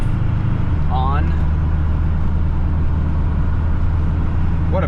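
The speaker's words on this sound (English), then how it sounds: "just to show everybody how this thing shifts and gets on the highway here" A built OBS Ford 7.3 diesel truck pulls onto a highway, its loud low engine drone steady throughout, with a brief rising whine as it shifts gears.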